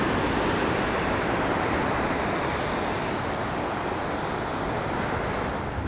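Ocean surf rolls in at Venice Beach, a continuous broad wash of breaking waves with some wind noise, steady and fairly loud with no voices.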